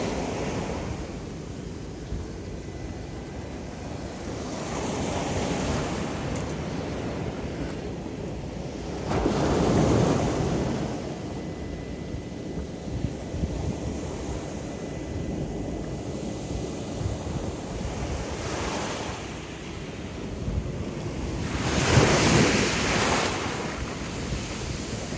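Ocean waves surge and break at Bean Hollow Beach, a continuous roar of surf with several louder crashing swells rolling in, mixed with wind buffeting the microphone.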